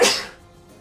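A single sharp sneeze bursts out loudly at the start, then fades into quiet room tone.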